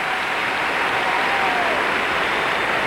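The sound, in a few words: audience applause after a figure skating short program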